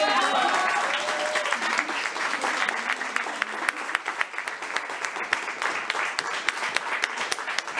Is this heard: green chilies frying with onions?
no